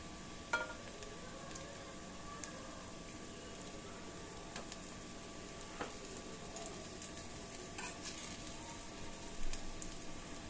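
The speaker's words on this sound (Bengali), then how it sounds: "একটু ভালোভাবে ভেজে রাখছি, খাবার সময় একটু গরম করে নেবো" Lote fish (Bombay duck) fritters deep frying in oil: a faint, steady sizzle scattered with small crackles and occasional sharper pops, with no one talking.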